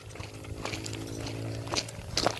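A mare and foal moving about nearby with a few hoof clops over a steady low hum, no talking.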